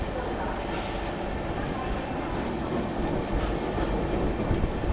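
Amrit Bharat Express train pulling away from Tundla junction, a steady broadband rumble of rolling wagons and rail noise throughout, with faint talk underneath.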